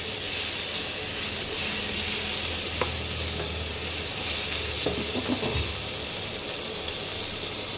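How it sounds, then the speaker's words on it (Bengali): Chopped tomato added to sizzling spice tempering in a pan while cooking spinach ghonto, giving a steady loud hiss and frying crackle with a few clinks and scrapes of stirring. "ফোড়নগুলো একটু দিয়ে সুন্দর গন্ধ বেরোবে, তখন একটা টমেটো কুচি করে রেখেছি, এটা দিয়ে দিচ্ছি।"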